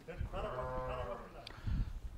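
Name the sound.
lamb bleating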